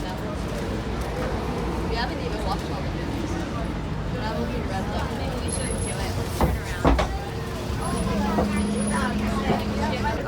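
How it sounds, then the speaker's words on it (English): Interior of a shuttle bus heading to a studio tour in London: a steady engine rumble and road noise, with a brief clunk and a rising engine note later on, while people talk over it. "we're on the bus to the studio tour"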